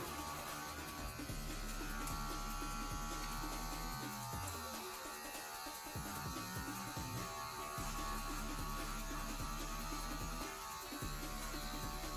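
An electric hair clipper buzzes steadily and close during a self-haircut at the back of the head, with a continuous droning hum that wavers slightly as it moves.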